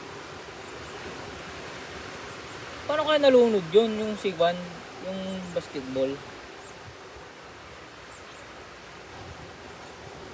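Strong sea waves give a steady, faint wash of surf noise throughout, with people talking briefly over it in the middle.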